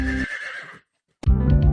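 A horse at a ranch corral lets out a loud, close whinny, then falls silent before a second neigh begins.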